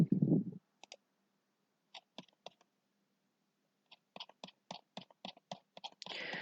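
Sharp computer mouse clicks and light keyboard taps come in scattered pairs, then a quicker run of even clicks while an academic report is written, close and clear over near silence, with a short burst of noise at the end.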